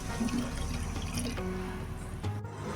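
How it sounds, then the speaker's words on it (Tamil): Water poured from a vessel into a pan of sautéed onions and spices while making hotel-style vegetable kurma, a continuous close splashing and trickling flow that briefly cuts off near the end. "தண்ணி ஊற்றிக்கிறோம்."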